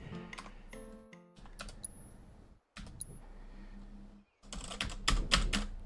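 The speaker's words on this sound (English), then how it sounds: "The keyboard has chatter." Keys on a computer keyboard clack close up in uneven bursts, with repeated chattering keystrokes from a finicky key, short pauses between runs and faint clicks mixed in.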